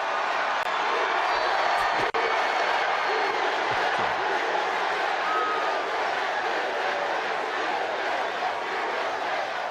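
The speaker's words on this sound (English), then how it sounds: "This is one hell of a big crowd." A big crowd at a Trump campaign rally in Gastonia cheers and roars in a dense, continuous wash, with one sharp bang cutting through early on.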